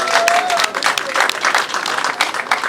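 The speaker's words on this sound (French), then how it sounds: "Applaudissez pour le coup." Guests applaud at a French civil wedding ceremony for Sariette and Emile: a steady burst of many hands clapping for a few seconds, close and fairly loud, with a voice briefly audible underneath.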